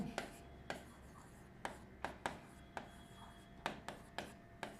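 Marker or chalk taps and scratches out short strokes on a classroom board while partners' salary figures are written, a sparse irregular series of sharp close clicks with quiet gaps between them.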